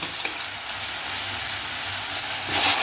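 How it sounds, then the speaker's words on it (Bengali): Eggplant pieces sizzling in hot mustard oil tempered with black cumin, a dense, continuous hiss that swells slightly near the end, close and loud with no voices. "এই কালো জিরেটা ওই সর্ষের তেলেই ফোড়ন দিয়ে দেবো দিলাম দিয়ে ওর মধ্যেই আমি এই বেগুনগুলো দিয়ে দিচ্ছি"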